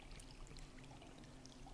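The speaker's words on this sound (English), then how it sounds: "let's get refilled on the water" Water being refilled in the mobile game Ark Survival Evolved, a faint, steady pouring rush that runs evenly for a couple of seconds with no talk.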